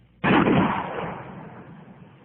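A shotgun fires an incendiary Dragon Slug round, a single sharp, loud blast that hits suddenly and then rolls off into a fading roar over about two seconds.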